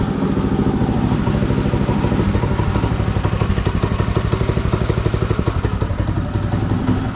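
A Predator 212 small gasoline engine runs steadily after a pull start, producing a loud, close, even rapid putter with a metallic clatter and no talking.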